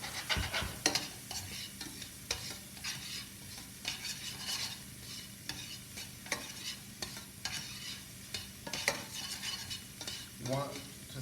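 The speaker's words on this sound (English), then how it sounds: "sweat our onions so we can develop more caramelization" Onions sautéing in a pan for tikka masala, a soft continuous sizzle under repeated scraping and stirring strokes of a utensil against the pan, close and alone.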